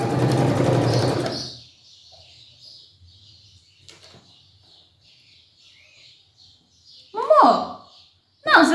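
A domestic sewing machine stitching a bias binding in place on a patchwork square bag runs in one loud burst at the start, then stops. Quiet follows, broken later by a couple of short squawky vocal sounds.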